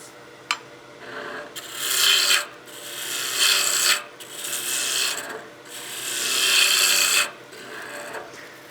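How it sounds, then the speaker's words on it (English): Spindle roughing gouge cutting a tapered wood blank on a lathe while turning a Christmas gnome: repeated loud rasping bursts of shaving, each a second or two long, separated by short pauses, with no talk. "Cuts really clean as well, but the spindle roughing gouge is just quicker."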